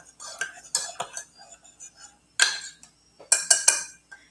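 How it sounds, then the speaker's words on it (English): A spoon stirring honey into a cup of rosemary tea, giving light clinks and taps against the cup in uneven bursts with short quiet gaps between them. "I'm going to stir so the honey will mix up."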